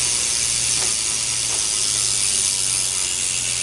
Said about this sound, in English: I know you guys probably want to hear my hub sound, so this is it.